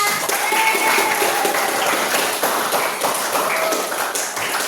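Audience in a classroom or seminar setting bursts into sustained clapping, a loud, dense and even patter of many hands lasting throughout without a break.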